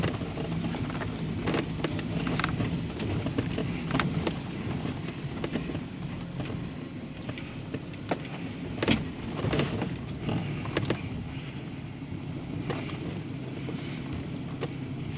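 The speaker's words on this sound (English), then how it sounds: "we're just gonna drop into a low gear" A Jeep grinds down a rough canyon trail in low gear near Grand Junction, its steady engine drone rumbling continuously with knocks and clunks from the rocky descent and some wind buffeting the microphone, no voices.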